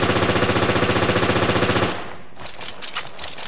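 Steyr AUG assault rifle in the video game Resident Evil Revelations firing a loud, rapid automatic burst for about two seconds, then stopping, leaving a fading tail and faint clicks.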